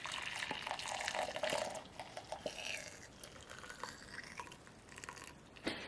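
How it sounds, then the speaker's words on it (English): Homemade keto eggnog poured from a pot into a container, a steady liquid trickle with small splashes and drips at close range, busiest in the first half and thinning out toward the end. "I am going to pour this in."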